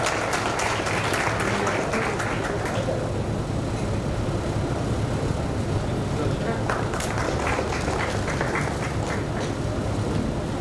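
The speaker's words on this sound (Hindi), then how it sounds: "जरा जोरदार तालियों से इस्तकबाल फरमाएं।" Applause from the audience at the Talent Award Barwani 2024 ceremony as a guest is welcomed on stage: continuous dense clapping from a large crowd, strongest at the start and swelling again later, with a low rumbling hum beneath.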